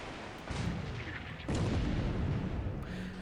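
Naval gunfire striking a light cruiser in a World War II Pacific naval strategy game: a continuous, heavy rumble of booms that jumps louder partway through, with no speech.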